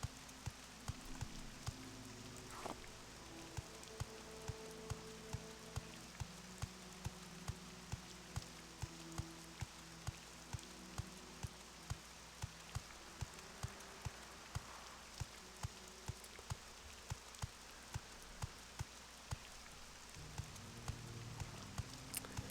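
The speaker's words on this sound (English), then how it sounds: "in the middle of the night." Steady rain falling at night in the Morrowind video game, a continuous soft patter with regular faint ticks running evenly throughout, no voices over it.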